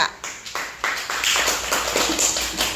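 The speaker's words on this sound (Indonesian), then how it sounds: "tepuk tangan juga buat kelompok 2" Classroom applause for a student group builds from a few scattered claps into a dense, steady patter of many children's hands, moderately loud and close.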